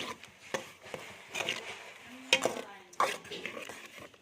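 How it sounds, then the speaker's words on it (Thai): Pork belly stir-frying in a pan, with irregular scraping and clattering of a utensil against the pan and light sizzle, close and fairly quiet, someone talking briefly. "หมูสามชั้นมันมัน กำลังรวนนะคะ"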